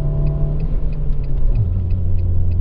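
Renault Megane 2 hatchback with a 1.4 98 hp engine climbing a steep hill, holding a steady loud drone near 4500 rpm with a low rumble inside the cabin, then dipping slightly in pitch, with no talk.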